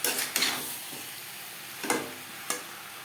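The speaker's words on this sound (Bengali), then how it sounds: "ও মশলার সাথে বেগুন আরও 3-4 মিনিট নাড়াচাড়া করে নেব।" Eggplant and potato are stir-fried with spices in a pan with a little oil, giving a steady close sizzle broken by a few sharp scrapes of the spatula.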